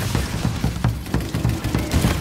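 Rapid gunfire in Call of Duty Infinite Warfare, a fast, dense run of punchy shots with heavy low thumps repeating throughout, loud and close with no voices.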